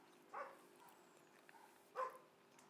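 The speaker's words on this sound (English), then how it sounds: "Don't mind the dogs barking in the background." Neighbouring dogs bark in the distance, two faint separate barks about a second and a half apart against a quiet steady background hum.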